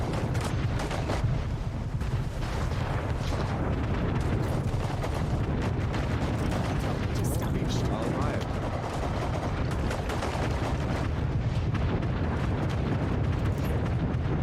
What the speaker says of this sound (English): I'm using all my mortars that we have at the moment.